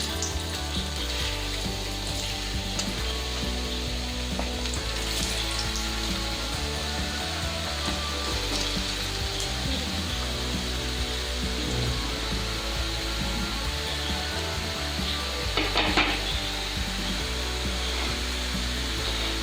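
Potato chips for french fries frying in hot sunflower oil on a full flame, giving a steady, dense sizzling hiss that continues without a break.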